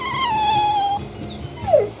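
Dogs whimpering in the video game Tales of Berseria, aboard a ship: a long, thin whine holds steady for about a second, then a short falling whimper follows, with a soft background score underneath.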